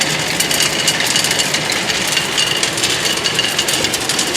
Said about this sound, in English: Feeding coal now. Blower and everything's running.